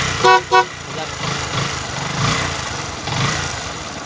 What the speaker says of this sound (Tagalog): May busina na.